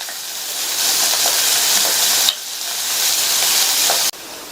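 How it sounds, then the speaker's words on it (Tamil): Green chillies, crushed garlic and curry leaves sizzle steadily in hot oil in a pan over medium flame, a loud, close, continuous hiss that briefly drops and resumes twice as the pan is stirred. "மீடியம் ஃப்ளேமில் வச்சு ஒரு 2 நிமிஷத்துக்கு வதக்கி விட்டுக்கங்க."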